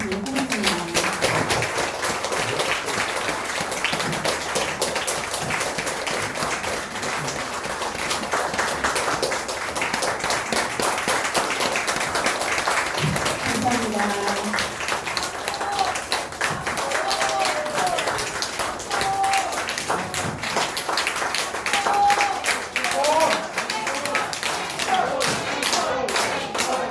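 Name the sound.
audience applause for performers at concert hall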